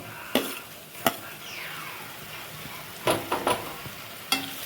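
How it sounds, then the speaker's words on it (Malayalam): Ginger-garlic paste sizzles in a pan with fried onions for a chicken curry, a steady soft fry under several sharp clinks and scrapes of a stirring spoon against the pan. "സവാള നന്നായി വഴഞ്ഞതിന് ശേഷം അതിലേക്ക് ഇഞ്ചി വെളുത്തുള്ളി പേസ്റ്റ് ചേർക്കുക"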